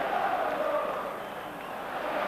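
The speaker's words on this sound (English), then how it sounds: "bringing applause from a capacity crowd" Capacity crowd at a Rangers v Motherwell football match in a stadium, a steady broad wash of applause and crowd noise holding at an even level throughout, distant and continuous with no single voice standing out.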